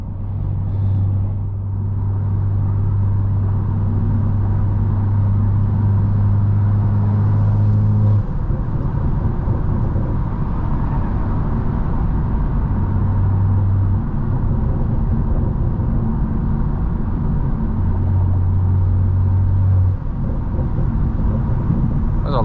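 Interior cabin sound of a Stage 2 tuned BMW M340i cruising at night, a steady low engine drone with a sustained humming tone that shifts pitch a few times, close and continuous with no talking.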